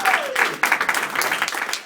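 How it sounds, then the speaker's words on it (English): An audience at a startup talk event claps for the speakers in a dense, steady burst of applause that lasts the whole moment. "So, big round of applause for them."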